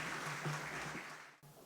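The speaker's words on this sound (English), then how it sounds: "Let's give a big round of applause for Mr." Audience applause greets Mr. Leo Sandoval at a community event, a steady wash of clapping from a crowd that runs for under two seconds before cutting off abruptly.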